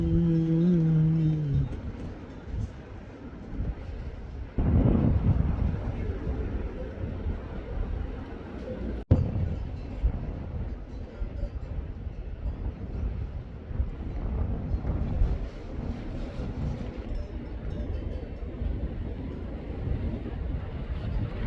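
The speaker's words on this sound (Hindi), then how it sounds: "तेज़ हवाएं चल रही है" Strong wind blowing through the Uttarakhand mountains ahead of rain and snowfall, a continuous close buffeting roar over the microphone with low rumbling gusts swelling and easing for the whole stretch.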